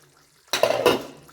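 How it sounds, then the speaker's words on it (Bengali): A metal lid lifts off a cooking pot of milk chicken, a quiet moment followed by a close clatter and scrape of metal with a faint wet sizzle. "আমি এবার ঢাকনাটা খুলে দিচ্ছি"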